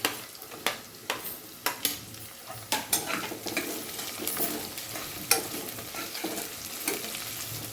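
Chopped onions and potatoes fry in oil in a pan for vegetable pulao, a steady sizzle broken by regular sharp scrapes of a spatula stirring, close and fairly loud with no talk.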